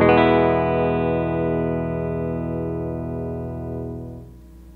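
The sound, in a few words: blues electric guitar through Carl Martin Plexitone distortion pedal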